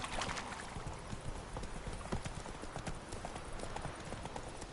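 Roach the horse clip-clops along in The Witcher 3, hooves striking in a steady trotting rhythm, up close, with no voices in this stretch.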